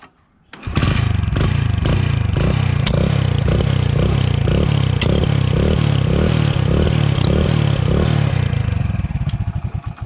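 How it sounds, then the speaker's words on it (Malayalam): A modified Hero Splendor motorcycle fitted with an aftermarket silencer starts up and idles loud and close, a rhythmic thumping exhaust beat with a few blips of throttle, tapering slightly at the end. "വണ്ടിയുടെ സൗണ്ട് ഞാനൊന്ന് ചെറുതായിട്ടൊന്ന് കേൾപ്പിച്ചു തരാം കേട്ടോ."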